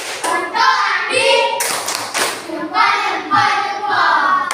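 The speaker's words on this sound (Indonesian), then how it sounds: "Silakan tepuk tangan, tepuk jempol untuk Andi" Children in a fourth-grade classroom clap together in short bursts, several rounds of quick clapping and thumb-tapping cheers that start and stop across a few seconds, close and fairly loud with little talk.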